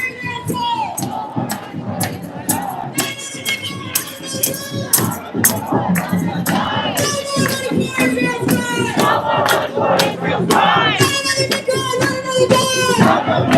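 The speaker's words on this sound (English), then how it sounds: "I'm gonna let y'all listen to the crowd for a bit" A protest crowd in Times Square, New York, chants and shouts in loud, rhythmic waves against war in Iran, voices rising together close by with continuous crowd noise.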